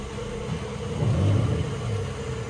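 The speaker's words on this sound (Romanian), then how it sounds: "Am pornit, am dat geamurile jos." A Porsche 911 Targa 4 GTS engine idles just after starting, a steady low rumble with a slight swell in the middle, heard close and alone.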